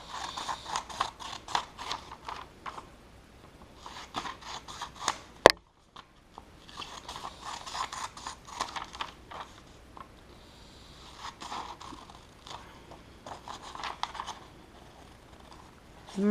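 Scissors snip through paper, cutting out a tab for a Greek and Latin roots notebook, in short bursts of crisp close-up cutting separated by brief pauses, with one sharp click and a silent gap near the middle.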